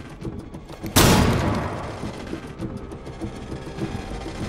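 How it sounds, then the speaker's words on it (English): A flashbang grenade goes off in the Rainbow Six Siege video game, one sudden loud bang followed by a long decaying ring. Quieter gunfire and mechanical clatter continue before and after. "Throwing a flashbang!"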